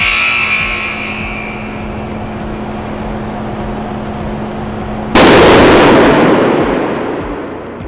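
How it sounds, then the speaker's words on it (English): An electrical enclosure fails under a 65,000 amp fault current, first a steady electrical hum, then a sudden loud explosive blast as the door blows apart, followed by a roaring rush that fades slowly. "The explosive power of the internal devices failing causes the door to blow apart"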